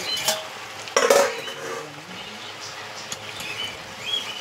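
Chili chicken cooks in a kadai after the lid comes off. A soft sizzle sits under close metallic clinks and scraping of a utensil against the pan, with one louder clatter near the start.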